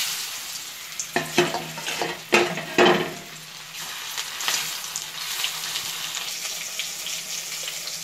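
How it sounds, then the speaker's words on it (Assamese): Fish rubbed with turmeric frying in hot oil, a close steady sizzle with several sharper crackling bursts early on, then settling into an even hiss. "হালধি সানি মাছ ভাজি ল'ম"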